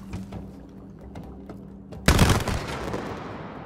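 Gunfire aimed at a lid in the video game It Takes Two: a sudden loud burst of shots after quieter mechanical clicking, followed by a rattling tail.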